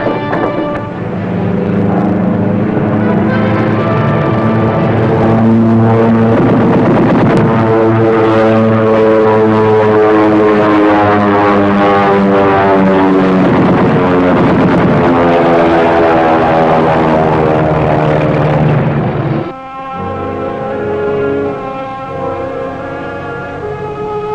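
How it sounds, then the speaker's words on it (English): A propeller aircraft passes overhead near a submarine on the surface, a loud, steady droning engine with strong harmonic tones that shift in pitch as it goes by, dropping and thinning near the end. "Looks like a friendly aircraft."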